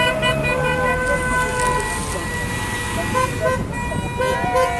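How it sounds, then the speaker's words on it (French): Passing drivers honk car horns in support of yellow vest protesters in Montpellier, a sustained overlapping mix of toots and long blasts over loud street traffic and crowd noise. "Voilà les klaxons pour les gilets jaunes."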